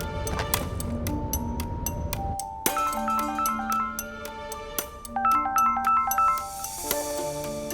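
A phone plays a bright melodic ringtone, a looping electronic chime tune of repeated notes, heard alone while a call is being placed.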